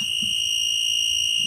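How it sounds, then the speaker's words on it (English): A voltage tester beeps steadily on a known live lighting circuit protected by a BS 3036 rewirable fuse, a loud continuous electronic tone held for the whole moment, with faint low room noise beneath. "You can hear the beep."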